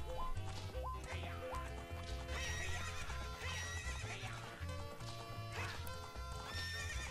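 Epona, the horse in the video game Zelda Ocarina of Time, whinnies loudly several times while galloping hooves clip-clop steadily over bright in-game music.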